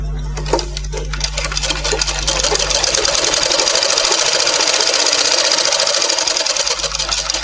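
A sewing machine runs a steady, fast stitching buzz along a blouse fitting seam, close and loud, holding an even rhythm from start to finish.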